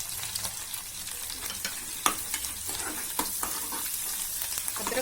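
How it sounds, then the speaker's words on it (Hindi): Green chilli and ginger fry in a pan while being stirred, producing a steady close sizzle broken by several scraping clicks of a utensil. "अभी हरी मिर्ची डाल रही हूँ। अभी नेक्स्ट इसमें अदरक डाल रही हूँ।"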